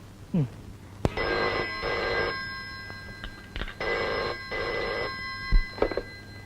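A telephone bell rings indoors in a Telugu family drama scene, sounding in two long repeated bursts with short gaps, clear and fairly loud against a quiet room.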